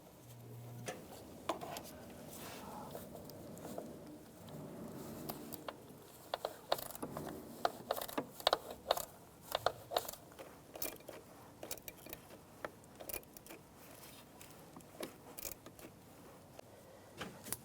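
A hand ratchet clicks in quick, irregular bursts while tightening bolts on a 2006–2011 Cadillac DTS during spark plug work, heard faintly and close against a quiet background.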